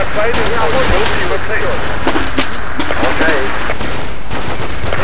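Gunfire crackles in Battlefield with the AIX mod as loud sharp shots over constant battle noise, while a voice talks excitedly over the action.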